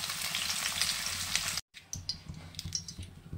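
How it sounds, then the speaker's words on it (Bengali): Pointed gourd (potol) fries in hot oil until reddish, crackling and sizzling densely and close up, with a brief silent break partway through before lighter spattering pops resume. "লাল করে পটলটা ভেজে নেব।"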